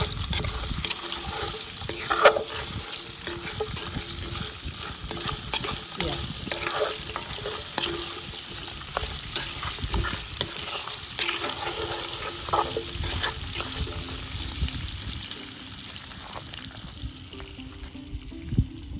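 Bacon fries in its grease at a riverside campsite, a continuous moderate sizzle and crackle with occasional stirring and utensil clatter.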